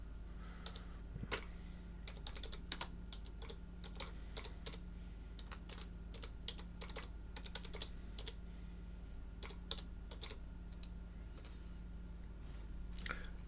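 Someone types a passphrase to log in to a VPS on a computer keyboard: soft, irregular key clicks over about thirteen seconds, quiet and close against a low steady hum, with no talking.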